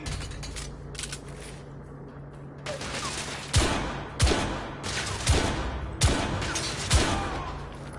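Gunfire in the video game The Order: 1886, with a quiet mechanical stretch giving way to five loud, evenly spaced shots and booming echoes, close and dominant.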